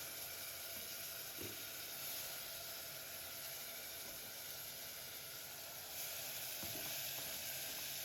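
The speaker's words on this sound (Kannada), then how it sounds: "ಕಡಲೆಬೇಳೆ, ಹೆಸರುಬೇಳೆ ನೆನೆಸಿದ್ನಲ್ಲ, ಅದನ್ನು ಹಾಕ್ತಾಯಿದ್ದೀನಿ ಇವಾಗ." Soaked chana dal and moong dal hiss and sizzle steadily in a hot pan for saagu, a faint, continuous frying crackle with a couple of soft knocks.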